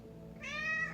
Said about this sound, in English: I am sorry about my kitty cat.